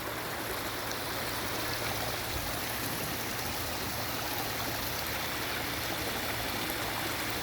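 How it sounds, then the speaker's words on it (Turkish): Steady rushing water flowing over the travertine terraces at Pamukkale, a continuous even hiss of a stream, close and unbroken, with no talking. "Bu sular böyle akıyor."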